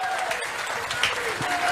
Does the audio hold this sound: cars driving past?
no